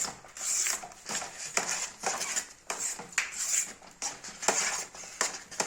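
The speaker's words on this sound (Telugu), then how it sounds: "కొంచెం ఫుడ్ కలర్ యాడ్ చేసుకోవాలి ఈ విధంగా మిక్స్" A metal spoon scrapes and clinks steadily against a pan while food colour is stirred into ravva kesari, with repeated rhythmic strokes at close range and no talking.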